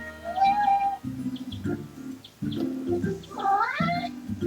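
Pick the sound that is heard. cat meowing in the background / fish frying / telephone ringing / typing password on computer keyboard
cat meowing in the background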